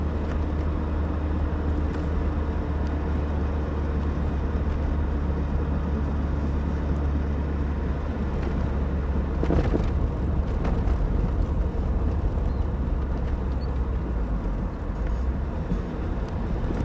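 A Lotus Esprit sports car on the move, its engine a steady low rumble with road noise carrying continuously from start to finish, close and fairly loud, with no talking.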